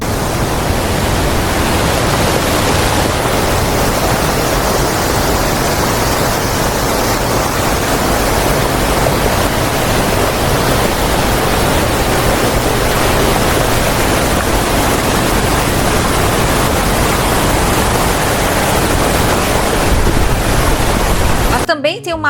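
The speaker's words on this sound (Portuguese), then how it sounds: "independente de onde você fica, você escuta o barulho da água o tempo todo" Rushing water near a campsite at Jaquirana, heard as a loud, steady, broadband roar like a river or waterfall that fills the scene continuously and cuts off abruptly at the end.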